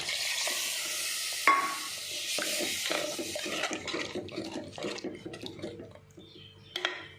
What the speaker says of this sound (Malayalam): ഇത് പുളിവെള്ളം ഒഴിച്ചു കൊടുക്കാം.